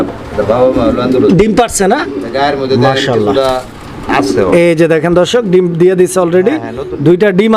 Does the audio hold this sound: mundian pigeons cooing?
yes